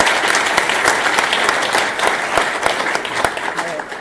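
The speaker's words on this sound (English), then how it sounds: "we should give a round of applause for everybody" Audience applause at a Drupal community talk, dense steady clapping filling the room at full volume from start to finish, with scattered sharper individual claps standing out.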